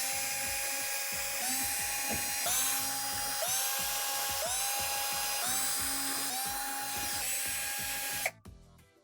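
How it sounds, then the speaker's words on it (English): A power drill backs Torx screws out of the back panel of a Whirlpool Swash washer in a series of about seven short whining bursts, each rising in pitch, over clattering handling noise. It is close and loud and stops abruptly at the end. "we're going to go ahead and remove all the Torx screws around the perimeter of the back panel"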